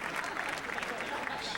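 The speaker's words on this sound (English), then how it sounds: "Please hold your applause until the very end." A roast audience breaks into applause, a dense, steady patter of clapping from the crowd, fairly far off and continuous through the short moment, with a voice mixed in.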